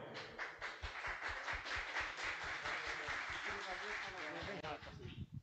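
Audience clapping at an evening cultural showcase in Limoeiro honoring a local musician, a steady spread of many hands that holds for several seconds before it thins out near the end.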